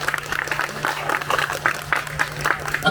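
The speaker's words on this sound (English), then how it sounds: "A clap for saying good afternoon." A crowd at Escape theme park in Penang applauds with steady, scattered clapping throughout, moderately loud, with a faint hum underneath.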